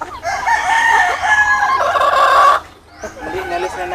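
A rooster crows loudly and close by in a long, drawn-out call among a flock of about thirty chickens, with softer clucking and a brief second call rising after a pause.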